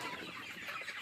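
Chickens cluck and fuss faintly while two people catch them for sale, a short burst of low, restless fowl noise over a steady background hiss.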